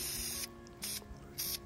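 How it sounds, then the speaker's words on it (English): Short hissing bursts of spray paint on a Honda VTEC valve cover at home, three separate sprays with brief pauses between, close and alone. "spray it evenly"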